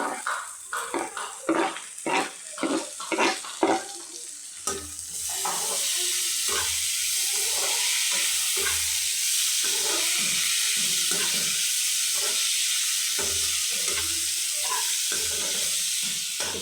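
Onions, curry leaves and tomato sauté in a pan, a steady loud sizzle with sharp stirring scrapes and clicks, first as separate strokes and then under a continuous hiss.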